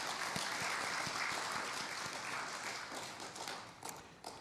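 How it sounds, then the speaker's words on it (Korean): A congregation at a Won Buddhist Sunday service applauds in support, a soft, steady wash of many hands clapping that sounds distant and fairly faint, with no talk over it. "우리 위타원 이성전 교무에게도 응원의 박수 한번 부탁드리겠습니다."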